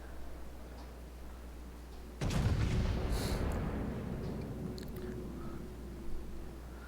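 A battleship's heavy guns fire a single deep, booming salvo in the video game World of Warships (a Montana), followed by a long rumbling decay, with a few faint distant thuds afterward.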